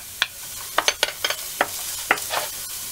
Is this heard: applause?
no